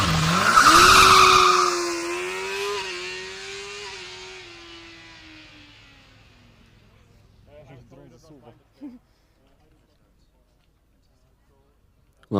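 A Formula Student race car's tires squeal on a heavily rubbered skidpad in a loud, sharp burst, then the sound fades away over several seconds into quiet, broken by a few faint noises and a final knock.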